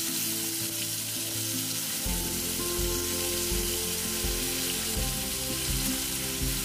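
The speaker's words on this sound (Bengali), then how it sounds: "এই অবস্থায় আমি এগুলিকে ভেজে নেব।" Raw, unmarinated chicken pieces frying in hot oil for a chicken aloo curry, with a loud, steady sizzle that rises sharply after a quiet start and continues with stirring scrapes.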